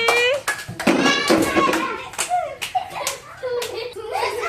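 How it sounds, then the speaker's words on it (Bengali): Children clap their hands during a ball-in-bucket throwing game, a few sharp bursts of applause mixed with excited children's voices close by. "সুনীলের জন্য একটা জোরে হাততালি"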